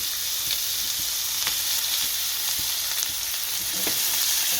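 Sliced white green onion sizzles steadily in hot oil in a pan, a continuous close frying hiss with faint scattered pops and stirring ticks, no voices.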